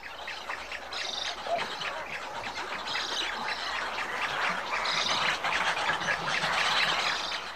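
A large flock of migrating birds on Nile river islands squawks and chirps continuously, a dense overlapping chorus of calls at fairly close range with no speech.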